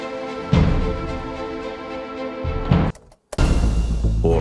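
Orchestral battle music from the World of Tanks video game plays in a full, sustained texture, breaks into a brief near-silent gap, then returns with a louder, heavier passage.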